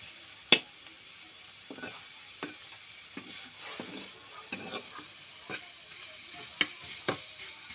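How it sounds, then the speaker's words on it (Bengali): Fish frying in a little oil, a quiet low sizzle broken by scattered soft stirring knocks and a couple of sharper spits, no voices. "এখন মাছটা দিয়ে সুন্দর করে ভেজে নেব, যাতে নাকি একটু মাছটা হয়।"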